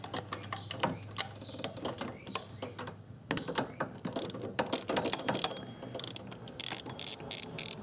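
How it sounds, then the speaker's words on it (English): Rapid clicking bursts from a 3/8 ratchet turning a 12mm socket to loosen bolts on a 2005 Honda Odyssey power steering pump, close and crisp, coming in uneven runs of strokes with short pauses between them. "we're going to take a 12mm socket and a 3/8 ratchet"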